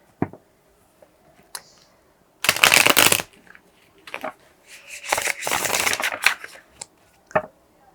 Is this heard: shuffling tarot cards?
yes